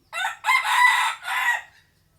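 A fighting rooster crows once, loud and close: a full, harsh cock-a-doodle-doo in several strained syllables that ends in clear silence.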